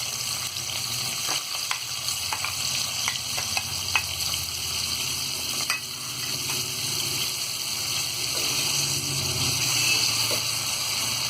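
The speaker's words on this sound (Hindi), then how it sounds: "और प्याज हम गोल्डन ब्राउन होने तक फ्राई करेंगे।" Sliced onions frying in hot oil for aloo keema, a loud, steady close-up sizzle with intermittent stirring scrapes and crackles throughout.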